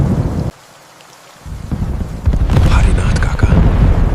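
Heavy rain and thunder on a moonless night in an animated Indian village horror story: a loud downpour with rumbling, cut by a sudden near-silent gap, then a louder surge of storm and rain hiss.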